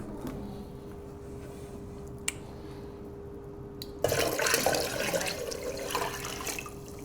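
Vinegar poured into a container while canning cucumbers, a sudden steady splashing liquid stream starting midway after quieter handling clicks, close and continuous.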